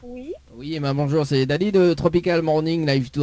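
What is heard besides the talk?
No distinct noise like a dog, phone or traffic.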